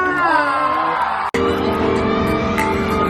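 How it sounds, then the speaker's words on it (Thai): A loud crowd at a charity auction event shrieks, whoops and cheers together in a continuous, dense roar, with a brief cut in the middle. "ขอเสี ยงกรี๊ดังให้น้องจิบบีกัน"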